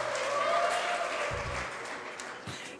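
A studio audience at a Romanian TV talk show claps steadily in a dense, continuous round of applause, with a voice briefly talking over it.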